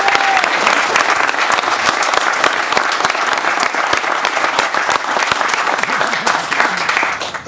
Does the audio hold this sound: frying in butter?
no